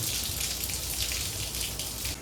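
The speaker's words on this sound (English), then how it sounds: "Looks like the rain has chilled out a little bit." Steady rain falls outdoors during work on a leaking Jeep pinion seal, giving an even, continuous hiss of drops on surfaces, fairly faint and without speech.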